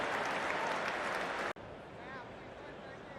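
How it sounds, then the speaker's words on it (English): A cricket crowd at an England Test match roars and applauds loudly and continuously, a dense wall of cheering that dips briefly for an instant and then surges on. "Massive roar from the crowd."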